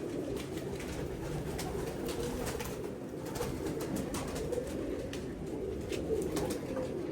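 Pigeons coo steadily and continuously in a loft kept for breeding pairs, the soft, throaty calls overlapping close by with no voices.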